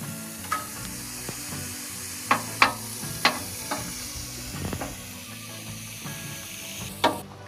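Ground beef fries in a pan at an Upper Peninsula campsite for a tacos al pastor variation, a steady close sizzle punctuated by sharp scraping stirs and utensil clinks.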